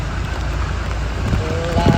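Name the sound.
heavy rain flooding a street in Can Tho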